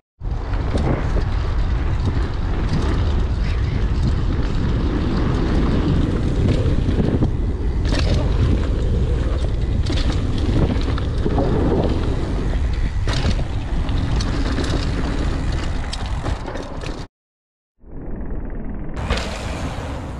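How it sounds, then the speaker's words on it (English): Wind roars steadily against the microphone on a headwind crossing, a dense, continuous rush with gusty swells that cuts out briefly near the end before resuming. "today's a bit of a wind crossing against us, like a headwind"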